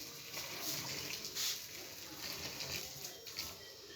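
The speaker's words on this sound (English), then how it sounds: "I'm going to pour hot water on it now and see how it goes." Hot water is poured into a container holding meat and pepper, giving a steady splashing patter that runs for the whole clip at moderate loudness.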